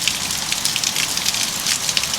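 Heavy mountain-village rain driven by strong wind pours steadily, a dense, close hiss of drops pattering on surfaces without pause.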